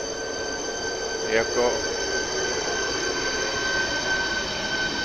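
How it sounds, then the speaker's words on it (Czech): Elefant double-deck electric train at Praha-Podbaba station, a steady rail rumble with a sustained high wheel squeal and a brief louder squeal burst, under a station announcement voice. "Na zastávce Praha pod Baba právě přijel elefant do Ústí nad Labem."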